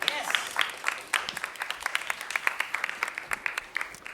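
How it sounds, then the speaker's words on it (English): Audience applause for a guest speaker at a talk in North Carolina, a dense wash of many hands clapping indoors, steady and fairly loud for the whole stretch with no voices on top. "So how about a nice round of applause for our friend Jim Hawhee?"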